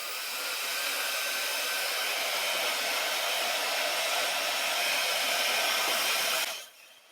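A hair dryer blows steadily and close at high volume while drying a haircut, a continuous airy whoosh that cuts off near the end, leaving quiet room tone.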